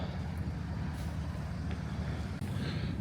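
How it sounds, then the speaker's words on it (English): A big truck drives across frozen lake ice, a steady, heavy, low engine rumble heard from some distance, with an abrupt brief dip near the end. "Look at this big truck going on there now."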